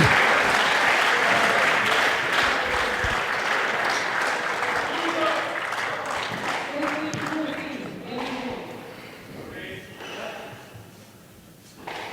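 A crowd applauds after a hard squash rally in a Premier Squash League match, with sustained clapping that tapers off gradually, while commentators speak over it.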